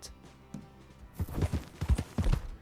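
Horse hooves in Red Dead Redemption 2 clip-clop in a quick, uneven rhythm, close and fairly loud, after a quieter opening with a couple of soft knocks.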